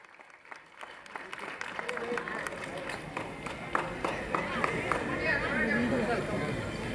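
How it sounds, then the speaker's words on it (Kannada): Audience applause fills a hall during a Babu Jagjivan Ram birth-anniversary celebration in Chikkaballapur, steady dense clapping that swells gradually and holds loud throughout, with crowd chatter mixed in. "ನಿಮ್ಮೆಲ್ಲರ ಕರತಾಳದ ಚಪ್ಪಾಳೆ ಈ ಕನ್ನಡ ಭವನದ ಪ್ರತಿಯೊಂದು ಮನಗಳಲ್ಲಿ ರೋಮಾಂಚಿಸಲಿ"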